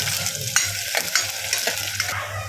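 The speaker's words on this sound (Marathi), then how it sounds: "यामध्ये आता कांदा घेते घालून कांदा गोल्डन ब्राऊन होईपर्यंत आपल्याला इथे हलवत राहायचं आहे" Onion fries in hot oil with cinnamon as a spoon stirs the pan, a steady close sizzle broken by repeated scraping strokes.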